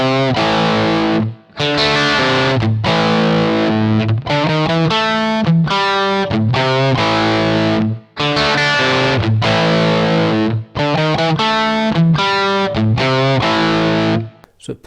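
A distorted electric guitar plays a solo from a song, with loud sustained bent notes and quick phrases broken by brief pauses, the tone thick with effects.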